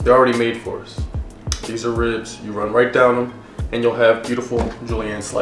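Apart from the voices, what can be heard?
No everyday noise stands out behind the speech.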